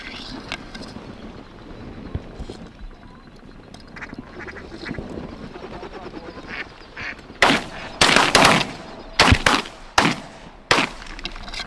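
Wild ducks calling during a mid-October waterfowl hunt in Alberta, quacks scattered faintly at first, then a burst of loud, close, repeated calls toward the end.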